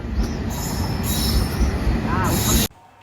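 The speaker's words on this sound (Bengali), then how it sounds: "ট্রেন চলে এসেছে, ঝটপট ট্রেনে উঠে পড়ি।" A train pulling into a station, loud rumbling wheels with sustained high metallic squeals layered on top, cutting off abruptly near the end.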